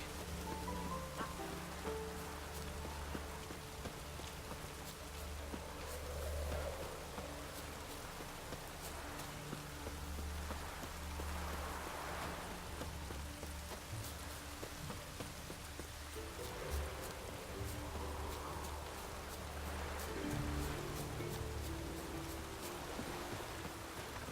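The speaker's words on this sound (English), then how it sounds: "No use doing any work in this rain." Continuous rain in The Witcher 3: Wild Hunt, an even hiss of falling drops over a low droning background that holds steady throughout, with no voices.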